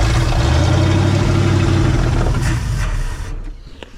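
A 1968 Ford F100 truck engine runs loud and steady with a deep low rumble, then drops away and fades near the end, with no voices over it.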